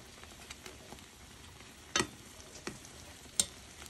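Koya-dofu ankake simmers quietly in a pan, giving a faint low bubbling with a few soft ticks and pops, one sharper pop near the middle, and no voices.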